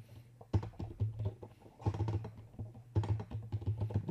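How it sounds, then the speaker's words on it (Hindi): Typing on a computer keyboard while entering Urdu text, with steady bursts of close, dense key clicks separated by brief pauses and no talk. "जैसे मैंने यहाँ पे टाइप कर रहा हूँ फाल्कन"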